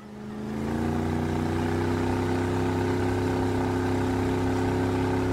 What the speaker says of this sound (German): Okay, ich starte Motor, ja? Also, es geht los.